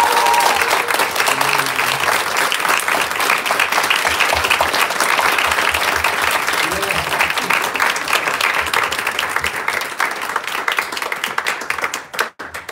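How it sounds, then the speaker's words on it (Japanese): Wedding guests at a ceremony give the couple a long, loud, sustained round of applause, many hands clapping densely before it tapers off near the end. "we'll give you a special applause from the depths of our hearts."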